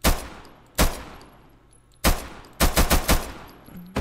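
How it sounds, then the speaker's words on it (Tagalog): Gunfire in the video game Minecraft: sharp single shots at first, then a rapid burst of four or five shots in quick succession, loud and close. "Parang ang layo yata ng pagputok mo ng baril, Kobe ah."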